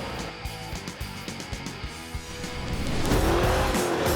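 Chrysler muscle car on a beach: rhythmic engine pulses build into a loud, sustained roar as the tires break into a long, wavering squeal near the end.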